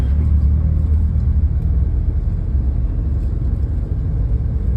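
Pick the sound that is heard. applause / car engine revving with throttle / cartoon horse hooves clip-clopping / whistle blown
car engine revving with throttle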